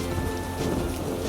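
A cartoon sound effect of rain with thunder plays as a dense hiss of falling rain over a deep, steady rumble, loud and brief, with no speech.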